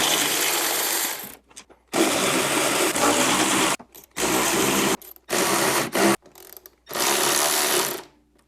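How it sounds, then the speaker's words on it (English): Loud bursts of ratcheting on Ski-Doo Gen 4/5 chain case bolts, several runs of about a second each, separated by short silences. "I'm breaking these loose first, and then I'm running my ratchet"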